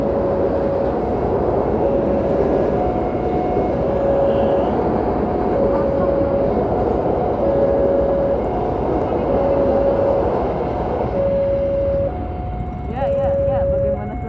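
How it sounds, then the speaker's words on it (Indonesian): A train passing a railway crossing on the Jombang–Nganjuk route rumbles loudly and steadily, with a repeating warning tone pulsing over it and voices now and then. "Oh ini dia, ternyata dari arah timur keretanya muncul."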